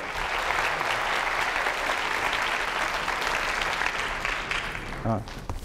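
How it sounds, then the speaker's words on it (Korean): An audience at a science forum on neurotechnology claps steadily for about five seconds, a dense, sustained round of applause that fades out near the end as a voice starts to speak. "박수 한번 해주세요"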